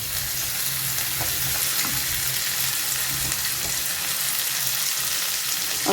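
Onion and potatoes getting a quick sauté in a pan, giving a continuous close sizzle of frying with faint scraping from stirring and no voices.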